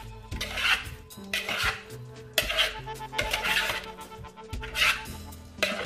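Potatoes being stirred and tossed for roasting in a pot or bowl make repeated metallic scraping and clattering strokes in uneven bursts, close and fairly loud, with no talking.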